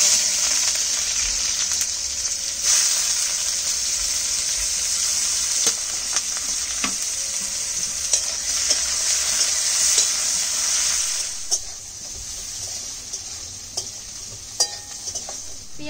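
Chopped onions fry in hot oil seasoned with black cumin seeds, a loud continuous sizzle broken by scattered stirring clicks, easing somewhat toward the end.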